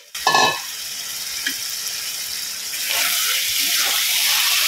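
Tomato puree poured into a frying tiger prawn curry masala sets off a sudden loud sizzle that settles into a steady hiss of frying and grows stronger again near the end.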